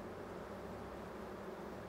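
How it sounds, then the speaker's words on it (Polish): A honeybee colony hums steadily in the lower box of a hive where the queen is kept, a dense, continuous buzz at moderate volume with no other sounds. "bo matka brzęczy na dole"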